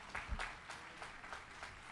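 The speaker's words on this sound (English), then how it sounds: "you can give them a round of applause." Quiet audience applause for board members at a Brentwood High School graduation ceremony for the class of 2021, sparse rhythmic claps heard faintly from a distance in a large space.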